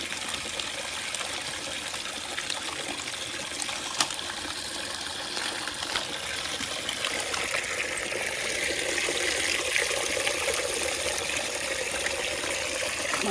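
Running water rinses muddy wild mushrooms clean for a mushroom curry, a steady close splashing trickle that swells slightly louder toward the end, with no voices.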